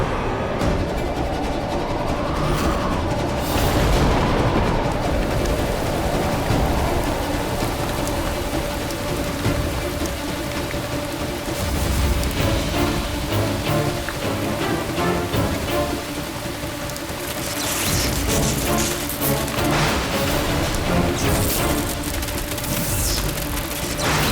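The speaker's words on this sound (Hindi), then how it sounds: "अरे लगता है बारिश होने वाली है" Steady, dense rain falls throughout, a continuous hiss with a faint tonal hum running beneath it and a slightly brighter, heavier patch of drops near the end.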